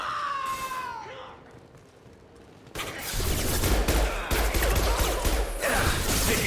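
Gunfire in the video game Mass Effect 2 Legendary Edition erupts after a quieter opening with a high wavering cry, then continues as loud, dense automatic bursts.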